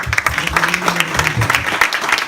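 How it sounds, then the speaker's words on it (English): An audience applauds musicians at a hosted event, with clustered, somewhat uneven claps close by and a faint murmur of voices mixed underneath. "they really deserve a round of applause"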